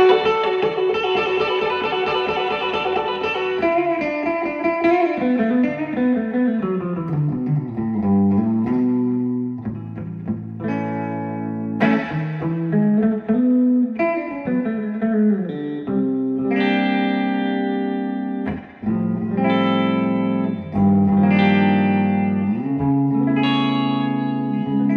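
An electric guitar plays through a newly serviced 1971 Fender Deluxe Reverb tube amp with extra reverb, ringing sustained notes and chords that bloom and decay in a clear, close, echoing wash.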